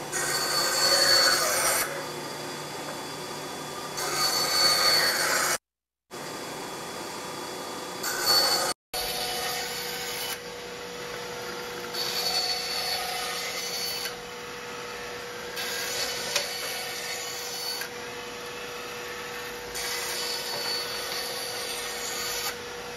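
Einhell TC-SB 200 bench band saw cutting wood. The blade runs loud and close as a steady hum, with a rasping scrape during the cuts. It breaks off briefly twice, then carries on with repeated cutting passes, and nobody speaks.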